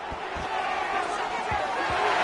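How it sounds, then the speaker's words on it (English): A home crowd at an American football game roars steadily, a dense wash of cheering that fills the background while a commentator talks over it. "how nice is it to have the home crowd going absolutely bananas?"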